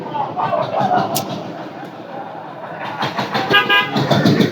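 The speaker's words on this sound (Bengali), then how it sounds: "এই যে বড় বড় গাড়ি যাচ্ছে" Large vehicles loaded with cattle pass at a busy cattle market in Gazipur, with engine rumble and several short car horn toots, loud and close, amid people talking in the background.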